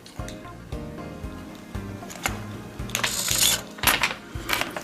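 A servo drives an Omni Mount point motor unit with a regular series of mechanical clicks and whirs, close and moderately loud, followed by a busier burst of clattering movement near the end.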